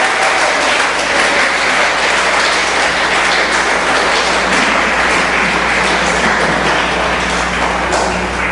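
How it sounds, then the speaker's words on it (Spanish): A congregation at a church service claps in a loud, sustained roar of applause that holds steady and close throughout, with almost no talking. "¿Por qué no le das un buen aplauso?"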